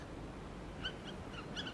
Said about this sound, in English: This hawk owl doesn't hoot so much as squawk.